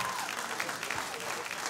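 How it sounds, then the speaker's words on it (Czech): A boxing-event crowd in Banská Bystrica applauds after a fight, a steady, somewhat distant sheet of clapping from many people with a faint voice mixed in beneath. "Dajte prosím vás ešte raz jeden obrovský potlesk"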